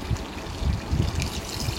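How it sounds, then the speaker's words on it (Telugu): Water pours steadily into a pot of Andhra-style chicken and brinjal curry, a soft continuous trickle close by with no voices. "ఇప్పుడు కూరకు తగినంత వాటర్ అనేది యాడ్ చేసుకుంటున్నాను నేను."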